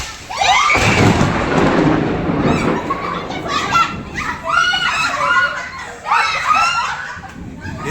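Thunder rolls loud and close through heavy stormy rain in a Konkan village as lightning strikes, while children's excited voices and laughter carry over the rumble.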